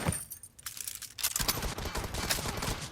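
MG3 light machine gun firing in the mobile game PUBG Mobile, with a Brass Bovine skin, loud rapid bursts of automatic fire with a brief pause, then continuous shooting.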